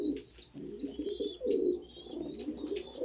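Pet pigeons coo repeatedly at close range, low throaty rolling coos in uneven pulses over about three seconds, with faint higher chirps from other birds above a quiet indoor hum.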